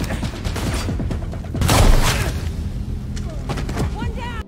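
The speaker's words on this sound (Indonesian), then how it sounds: "Baku tembak pun tidak terelakkan lagi" Gunfire erupts in a film shootout, a dense barrage of sharp shots and booms swelling into a loud burst midway, layered with mechanical clatter and a rumbling action-scene mix.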